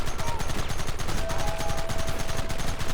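Dense, continuous gunfire rattles through a Red Dead Redemption firefight, rapid overlapping shots at moderate loudness with no clear breaks.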